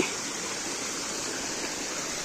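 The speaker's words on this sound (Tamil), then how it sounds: "இது வந்து நம்மளோட மூணாவது அருவி" Steady roaring rush of falling water, loud and constant from start to finish, with no voices over it.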